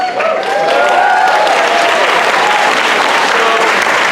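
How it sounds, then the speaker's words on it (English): Applause from a fan convention crowd, loud and sustained, with dense clapping and some cheering mixed in, filling the whole stretch without a break. "I'd like to give them a big round of applause"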